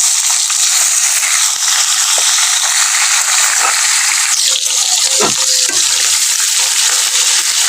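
Sliced onions dropped into hot oil with cumin seeds, a loud, dense, continuous sizzle up close that crackles steadily for several seconds with a few brief pops and clatters.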